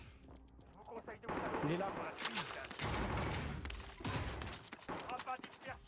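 Gunfire in Call of Duty Warzone crackles in loud rapid bursts mixed with single shots, up close, while a player speaks briefly over it.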